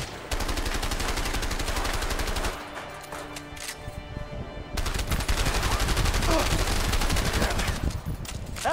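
Rapid automatic gunfire bursts loudly in the video game A Way Out, with a brief lull partway through before dense firing resumes; a voice speaks over parts of it.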